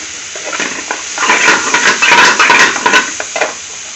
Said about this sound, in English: And now it's putting the chana masala mix.